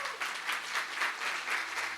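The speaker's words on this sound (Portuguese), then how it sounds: "Vamos dar uma salva de palmas para eles." A church congregation claps during a Holy Spirit worship service, a steady wash of applause with faint voices underneath.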